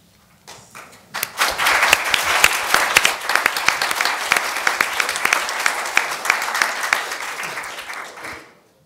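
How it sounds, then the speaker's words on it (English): A large crowd breaks into loud, sustained applause, dense clapping that swells quickly, holds steady for several seconds, then fades out. "a big round of applause"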